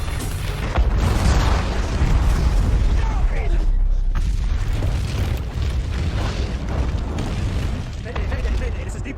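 A major explosion aboard the Deepwater Horizon offshore drilling rig in a film: a loud, sustained blast of rumbling booms and roaring debris filling the whole clip, with shouting voices mixed in.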